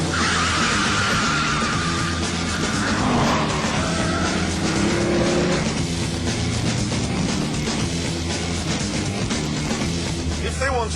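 A Dodge Viper SRT-10 open roadster with an 8.3-litre V10 of 500 brake horsepower drives hard, a loud, rough engine roar with wind and road noise that stays steady for the whole stretch.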